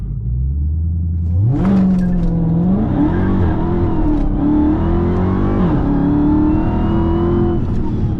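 A 2021 Dodge Charger Hellcat Redeye with a newly fitted diff brace launches from a stop, its supercharged engine roaring loud and close, climbing in pitch through sustained revs and shifts.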